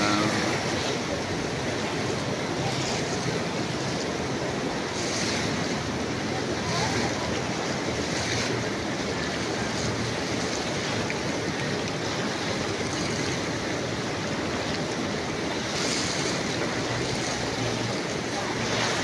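A loud, constant roar of rushing water and mud flowing down from a mountain fills the whole stretch, steady and close, with faint voices buried beneath it.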